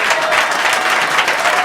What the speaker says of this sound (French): Il s'appelle Jean-Paul André et on l'applaudit